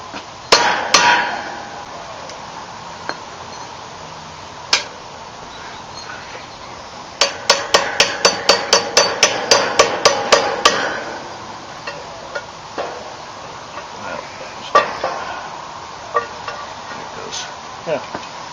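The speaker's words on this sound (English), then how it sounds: "Now we're just going to turn it over and tap that cap out." A piece of tubing used as a makeshift hammer taps a U-joint cap out of a truck driveshaft yoke, giving sharp metallic knocks: a few scattered hits, then a rapid run of about a dozen, then more spaced taps.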